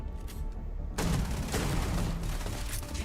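Shotgun fire in the game Starfield, a dense burst of blasts kicking in after a quiet second and rolling on as a loud, continuous barrage.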